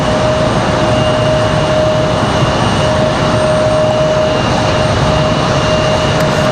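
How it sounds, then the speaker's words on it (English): A Delta airliner, flight 2992 from Miami, arriving at Raleigh-Durham International Airport, heard as a steady, loud, even jet roar with a faint high whine held throughout. "Looks like Delta 2992 coming in from Miami"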